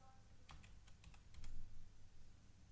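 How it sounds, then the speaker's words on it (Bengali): Typing on a computer keyboard into a search bar, a short burst of several quick soft key clicks in an uneven rhythm, close and quiet over a low background hum. "এখানে এসে আমরা এই সার্চ বারে এসে আমরা র্যাঙ্ক ম্যাথ লিখব"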